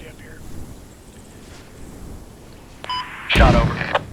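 Artillery gun fires in a military video game with Drongo's Artillery Mod: a single heavy boom near the end, preceded by wind rush and a short radio-like tone.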